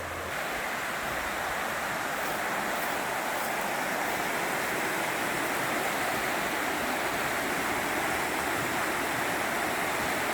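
The Carbon River runs hard along one bank and spills into a pool, giving a constant close rush and churn of water that holds steady the whole time with nothing else breaking through.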